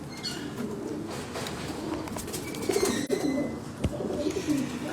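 Pigeons coo softly over a low background murmur, with a few brief chirps and a sharp knock partway through.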